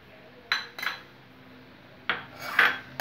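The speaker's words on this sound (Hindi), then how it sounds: "फिर इसको मिक्स कर देते हैं।" Potato and cabbage sabzi with coriander is mixed in a pan, giving a few short bursts of metal spoon scraping and clinking against the pan between quiet pauses.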